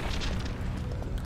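A grenade explosion in the video game Star Wars: The Old Republic: a low, rumbling boom with a dense, sustained roar that stays fairly even in level across its short span, with no voices.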